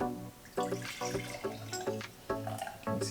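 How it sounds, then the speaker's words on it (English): A drink is poured into an 8-ounce mason jar, giving gurgling, splashing pulses of liquid in quick bursts, close and fairly loud, with no talk. "Just pour it in."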